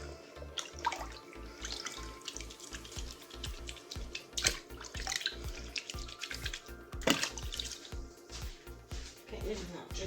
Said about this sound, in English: Get rid of that dripping tap.